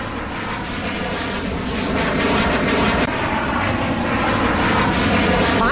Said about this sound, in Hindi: पांचों विमान और उनकी गर्जना एक एक कर आप सुन रहे हैं